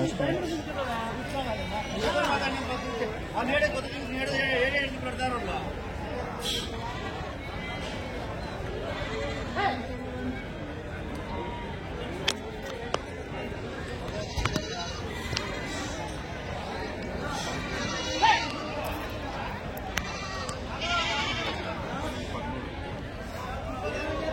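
Goats bleat repeatedly at a busy weekly goat market in Kadiri, their cries rising over a constant hum of crowd chatter and nearby voices.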